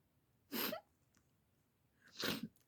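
Two sharp sneezes about a second and a half apart, close and loud, each a burst of breathy noise, in a quiet room with no talk.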